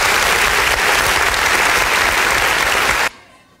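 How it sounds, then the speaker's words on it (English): Loud, dense applause from a large crowd fills the space, then cuts off abruptly, leaving near silence. "Let's give them another big round of applause."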